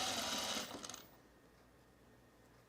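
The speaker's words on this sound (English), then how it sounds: "So I'm stitching on the right side of the pant only because I don't have a free arm." A sewing machine stitches a seam on a pair of summer pants, whirring in a short, fairly quiet burst of rapid needle clatter that stops after about a second, leaving near silence.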